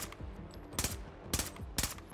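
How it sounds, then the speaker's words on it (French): Quick pairs of sharp shots from the NVK P125 pistol in burst mode in Battlefield 2042, three bursts spaced about half a second apart over a soft game background. "le NVK P125, avec un mode de coup par coup et un mode burst qui tire donc deux balles"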